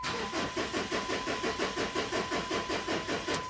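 A 2006 Jeep Grand Cherokee engine cranks over with a steady rhythmic churn of the starter, about a dozen even pulses at close range, with no catch or start during the clip.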